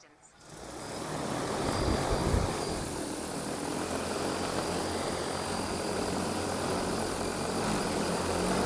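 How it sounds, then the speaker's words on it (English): An XAG P100 Pro or DJI Agras T40 agricultural spray drone spins up and lifts off outdoors, its steady, loud rotor whine and wash rising within the first second and holding level throughout. "Aircraft preparing to take off."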